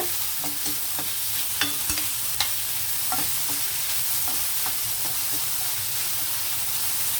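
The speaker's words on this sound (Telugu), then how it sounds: "ఈ ఉల్లిపాయలు కొంచెం వేగాయి కదా క్యాప్సికం వేద్దాం అలాగే పచ్చిమిర్చి అలాగే టమాటో కూడా" Onions, capsicum, green chilli and tomato frying in a pan for noodles, a steady loud sizzle throughout with occasional scrapes and taps of a spatula stirring the vegetables.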